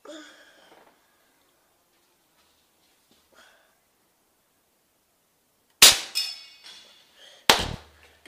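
A Krait X 22 air rifle fires twice after a long quiet stretch, each shot a sharp, close crack that rings out briefly and then fades.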